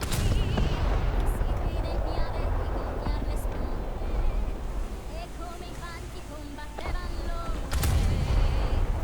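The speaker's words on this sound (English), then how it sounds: "I know I'm sitting here in an Ayanami-shaped object, lobbing HE shells at an Omaha." Destroyer HE shell fire in the War Thunder naval battle, an Ayanami-class ship lobbing shells at an Omaha cruiser: loud booming gun blasts over a constant roar of sea and wind, with a sharp shot near the start and another near the end.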